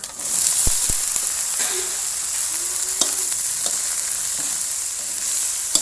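Lotus stems stir-fried with pork in a hot pan, a continuous bright sizzle of oil with scattered sharp clicks and scrapes of the spatula stirring.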